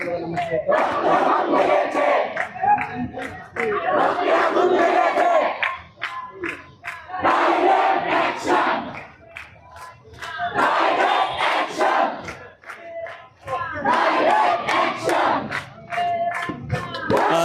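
A crowd of students and teachers chants protest slogans at the High Court grounds during the quota movement, loud rhythmic massed voices rising and falling in repeated waves, close and sustained.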